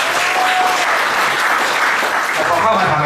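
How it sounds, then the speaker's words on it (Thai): An audience applauds for three people at a product demonstration, a dense, loud burst of clapping from a crowd that holds steady for the whole stretch. "ปรบมือทั้ง3 คนเลย"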